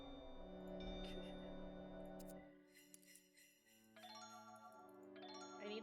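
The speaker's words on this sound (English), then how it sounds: "I need the bells to stop, please and thank you." Repeated bell jingles and chimes ring out in a video game, overlapping sustained musical tones that shift partway through.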